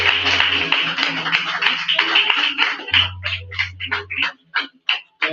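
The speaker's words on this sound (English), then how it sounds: "let's give a round of applause for Mackenzie" An audience at an open mic poetry showcase claps for a performer, busy close clapping that thins into scattered separate claps toward the end, with a low hum underneath.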